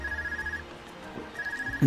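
A phone rings in the Trails of Cold Steel video game, a repeating electronic trill in two short bursts separated by a pause, fairly soft over faint background music, before a louder sound cuts in at the end.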